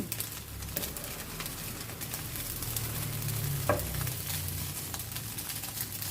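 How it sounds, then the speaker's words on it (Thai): Chicken offal dry-roasts in a pan with no oil, giving a steady soft sizzle while a utensil stirs and scrapes against the metal in scattered strokes close by. "ต้องคั่วให้มันเหลืองมันจะหอม"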